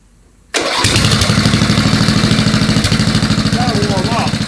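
A 1988 Caldor MTD lawn tractor engine catches abruptly and settles into a loud, steady, rough idle while warming up. The running is close and continuous, with a few faint higher sounds over it.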